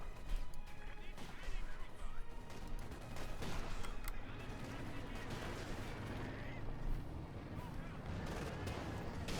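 Battle sounds from Company of Heroes 2: repeated tank cannon fire and blasts, including a Panther tank exploding, crack and boom in a dense, continuous barrage of gunfire and impacts.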